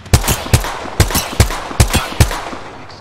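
Gunfire in an Apex Legends-style battle royale game: a string of about six loud, sharp shots spaced roughly half a second apart, each with a short echoing tail, with no talking over them.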